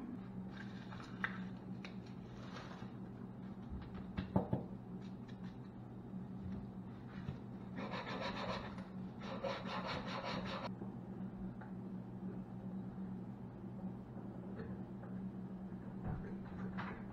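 Sanding on the wood of a homemade longbow comes as quiet, scattered rubbing strokes, with a longer burst of scraping in the middle over a low background hum.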